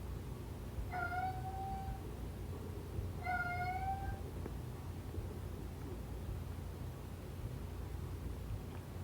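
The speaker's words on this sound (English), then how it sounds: "I don't know what he's meowing at." A cat meows twice in close succession, drawn-out and clear, against a quiet hum, followed by several seconds with no further calls.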